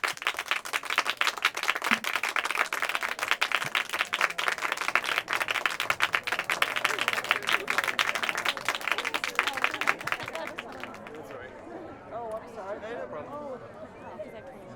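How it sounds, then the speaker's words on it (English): An audience at a patient advocacy panel gives the panelists a round of applause, dense continuous clapping for about ten seconds that then thins out as people begin talking. "give them all of our panelists a round of applause"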